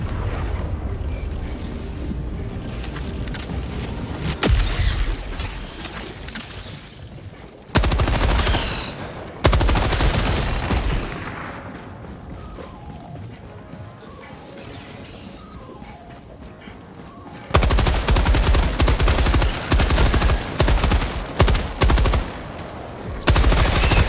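Automated sentry turret in the video game Helldivers firing sustained bursts of loud machine-gun fire, with dense rapid shots broken by short pauses and overlapping explosions amid chaotic battle noise.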